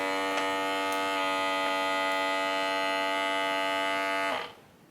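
A compact vacuum sealer under $55 runs on a bag with a steady close buzzing whine for about four seconds, then cuts off abruptly into quiet.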